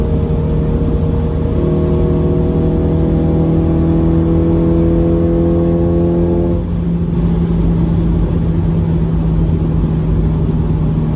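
A remapped Honda Civic Type R FN2 pulls hard along a motorway, its loud in-cabin engine drone rising steadily in pitch for several seconds before easing into a constant cruising roar with road noise.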